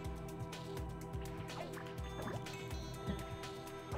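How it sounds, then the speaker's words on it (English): In a puzzle video game, two water jets meet in the middle, giving a steady, faint gurgling and bubbling flow with repeated low drips and blips running throughout, and no talk. "if I point a water jet at another water jet?"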